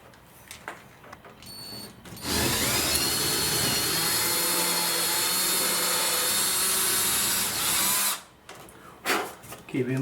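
Power drill widening a 3/16 hole in a bifold door for a knob bolt, a steady loud whir lasting about six seconds, framed by quieter handling noises before and after.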